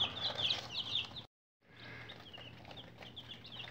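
Young rooster chicks from Myers Hatchery's Fry Pan Special batch chirp and cluck indoors in a house, a busy, fairly close chorus of high peeping that breaks off briefly into silence before resuming.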